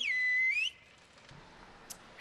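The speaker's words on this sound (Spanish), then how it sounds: "Es el silbo herreño" Silbo herreño, the whistled language of El Hierro, heard as a loud sustained whistle with a gliding rise at its end, then a short pause and another high whistle starting.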